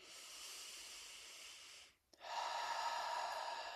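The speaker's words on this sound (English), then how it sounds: "and then I start breathing from my belly" Someone breathes deeply from the belly in a meditation practice: a long, slow, airy inhale, a brief pause, then a steady full exhale, close and quiet with no talking.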